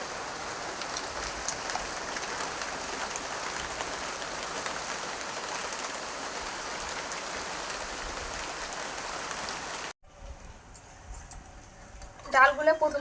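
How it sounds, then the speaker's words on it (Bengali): Steady rain falls continuously outdoors as a dense, even hiss that fills most of the stretch before cutting off abruptly, leaving quieter room sounds and a few brief clinks. "আর সকাল থেকে একভাবে বৃষ্টি পড়েই যাচ্ছে, এখনও বৃষ্টি হচ্ছে।"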